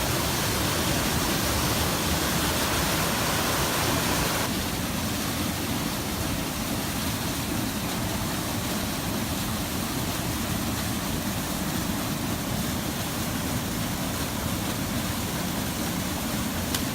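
Waterfall in the Teton backcountry, a steady broadband roar of falling water that fills the whole stretch at constant loudness, with no voices.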